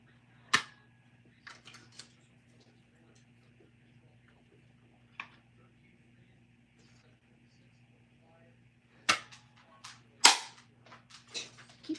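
Heart-shaped paper punch cutting through paper, a few sharp close snaps spread apart with quiet gaps and faint clicks between, over a low steady hum.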